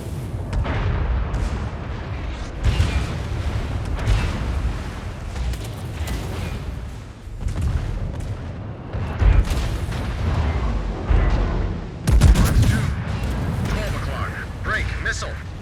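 Heavy naval gunfire from the Thunderer battleship in World of Warships: repeated deep booming salvos and blasts rolling over one another for the whole stretch, loud and dense, with voices talking over the barrage.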